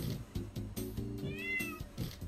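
A cat meows repeatedly in a video game, several short nasal calls in quick succession over a busy, rhythmic game sound bed, with no talk.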